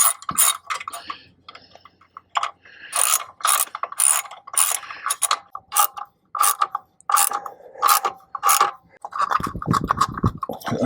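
Ratchet tightening caliper cover fasteners on a Tesla Model 3/Y, close, busy bursts of rapid clicking in irregular spurts with brief pauses between strokes, ending in a rougher scraping rattle.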